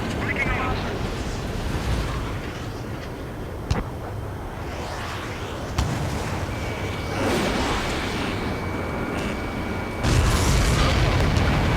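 Explosions as an enemy transport is destroyed in the jet combat game Ace Combat 7: a couple of sharp low booms rise over a constant engine roar, with voices talking throughout.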